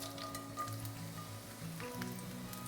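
Garlic and dried chilies fry in two tablespoons of chili oil for a tomato ramen stir fry, giving a steady, close, dense sizzle with a faint stirring scrape and no voices.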